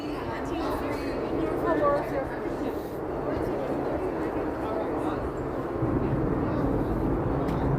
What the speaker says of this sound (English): We got helicopters flying all overhead.